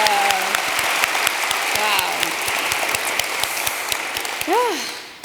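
An audience at an interview event with Leigh-Anne Pinnock claps in a steady, dense wash of applause, with a few voices and cheers rising above it before it thins out near the end.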